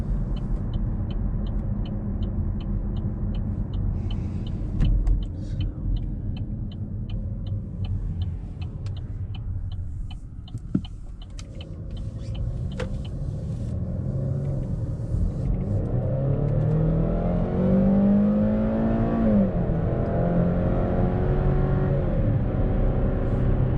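A 2013 Chevy Malibu ECO with about 115,000 miles driving on a road at night, a continuous low engine rumble and road noise from inside the cabin, easing off midway and then building again as it accelerates.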